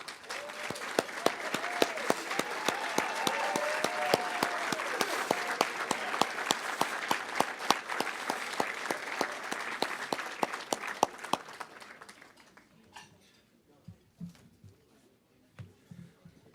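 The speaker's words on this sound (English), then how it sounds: "applause." Sustained applause from the audience at a chamber of commerce annual meeting and business awards, loud and steady for about eleven seconds with a few whistles, then fading to scattered claps and quiet room noise.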